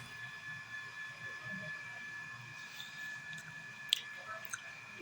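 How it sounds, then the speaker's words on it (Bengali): Someone chews freshly fried pakora up close, soft crunchy, squishy bites faint against a steady background hum, with a couple of sharp clicks near the end. "আমি এইভাবে কিন্তু পকোড়া তুলে কিছুটা খেয়ে নিই"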